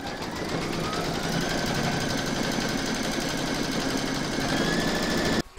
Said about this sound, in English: Pop your hoop into your machine and stitch round number three to secure it.